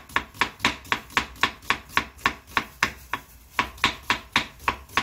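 An onion being thinly sliced with a knife, a fast even run of crisp cutting-board taps, about three per second, close and clear with no talk.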